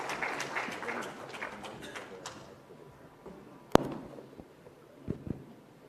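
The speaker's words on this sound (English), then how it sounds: "Round of applause, please, ladies and gentlemen." An audience at a public finance summit breaks into a brief burst of clapping that fades out within a couple of seconds, followed by quieter room noise and a sharp knock.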